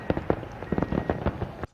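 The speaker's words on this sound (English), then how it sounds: "while we all look to the sky and wait for those sizzles," Independence Day fireworks at a Fourth of July celebration in a historic village museum, a quick run of sharp pops and booms in uneven bursts, loud and fairly close, ending abruptly.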